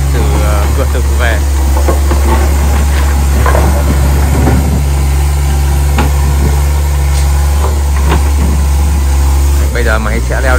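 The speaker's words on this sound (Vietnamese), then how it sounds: "Bây giờ máy sẽ leo lên cái chỗ bằng" A flipped-over excavator, just recovered from deep mud, runs its engine in a loud steady rumble as it climbs toward flat ground, with someone talking over it throughout.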